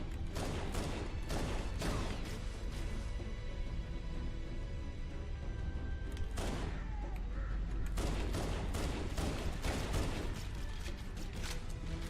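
Rapid bursts of gunfire from a Halo: Combat Evolved firefight, loud repeated volleys with short pauses, including a dense barrage near the middle, with no talking.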